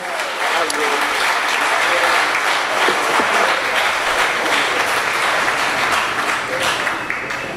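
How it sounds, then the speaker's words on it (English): Wedding guests give a round of applause for the maids of honor and best man, a dense, loud, steady clapping that carries evenly from start to finish. "How about a nice round of applause for our maids of honor and best man."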